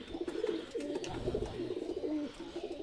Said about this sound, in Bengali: নতুন বাচ্চা কবুতর উঠছে, ওদের সাথে এই নটটা ঝগড়া করতেছে